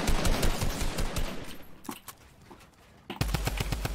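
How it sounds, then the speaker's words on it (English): Rapid video game gunfire hits the player, a dense, loud burst of shots that thins out briefly before resuming hard and close. "Yo, I'm getting shot."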